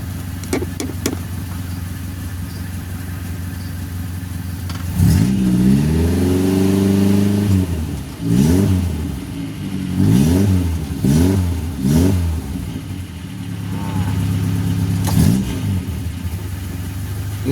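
A Suzuki Carry 1.0 engine, just converted from a bottle-type ignition coil to an injection coil, idles steadily and is revved several times, each blip rising and falling in pitch, loud and close, with no speech.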